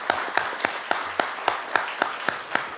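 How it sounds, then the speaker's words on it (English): An audience at a school district governing board meeting applauds La Jolla High School, producing steady, sustained clapping. A few sharper individual claps stand out at regular intervals above the wash of hands. "please, everyone, give another big round of applause for La Jolla High School"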